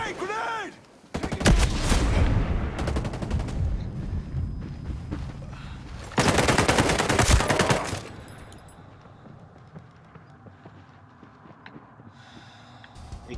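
Heavy gunfire erupts in Ghost Recon Breakpoint, loud bursts of rapid automatic shots in two intense stretches, then fading to sparse distant shots and quieter ambience.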